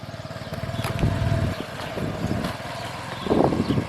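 Motorbike engine idling and revving lightly as a learner rider applies a little throttle, a steady low rumble with gentle rises, close by, with faint voices.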